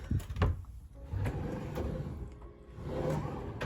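A hotel room dresser drawer slides open and shut with a couple of soft wooden scrapes and a light knock, close by in a quiet room.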